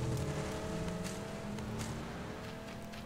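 Vehicle engine droning past in the PUBG battle royale game, a steady mid-distance motor hum with tonal whine that slowly fades, heard alone without talk.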